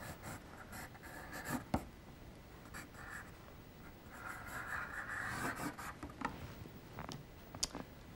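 A pencil scratches across paper to sketch a shadow beneath a figure before painting, soft rubbing strokes in bursts with short pauses, close and quiet with no voices.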